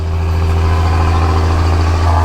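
A tractor passes close by outdoors, its steady low engine drone and rumble holding loud and even throughout.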